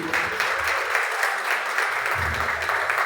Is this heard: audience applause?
yes